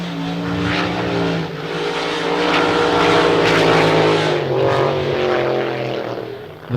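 Outlaw race car engine running out on the circuit during Friday practice at the Gold Cup, a loud, steady droning roar with wavering pitch that swells and eases slightly as it holds on, no voices over it.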